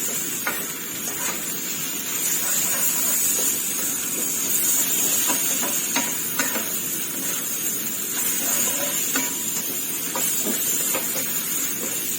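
Glass noodles and tomatoes stir-fried in a pan give a steady, loud sizzle and hiss with occasional scraping stirs, continuous and close, no talking.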